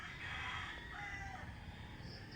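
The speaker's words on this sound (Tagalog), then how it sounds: "May ingay talagang mga manok." A rooster crows in the distance, a long drawn-out call over steady outdoor background noise.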